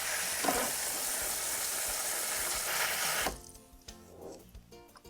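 Dried beans rinsed in a pan under running water, a steady hissing rush of water for about three seconds, then it stops and quieter rattling and clicking of beans being stirred follows, with no talking.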